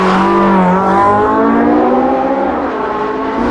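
An all-wheel-drive race car pulls out of a tight turn in second gear, and its engine drones loud and close as it climbs in pitch through a steady acceleration.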